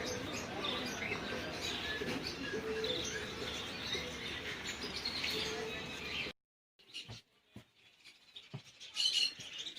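Many small birds chirp and tweet busily over a dense background din in a bird shop, then the noise drops away, leaving sparse, scattered chirps.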